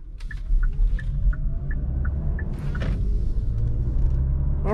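A Kia Sportage Hybrid pulls away from a standstill, heard from inside the cabin as a steady low engine and road rumble with a faint rising tone, continuous and moderately loud, with no talking.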